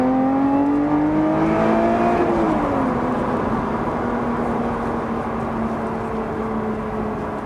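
The supercharged engine of a Lotus Evora GT430 drives steadily, a loud, close engine tone that climbs and then settles into a sustained cruise drone. A faint supercharger whine sits underneath.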